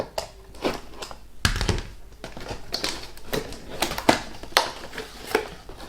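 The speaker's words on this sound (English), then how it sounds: "I'm wrestling the packaging a little bit. It's stuck." Stuck packaging on an Airstrike Thunderstorm product is wrestled open by hand: a close series of irregular crackles, taps and rustles in quick bursts, with no voice over them.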